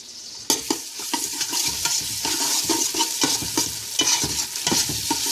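Tomato paste fries in sesame oil and butter, a loud close sizzle broken by repeated stirring scrapes and taps of a utensil against the pan in a loose, busy rhythm.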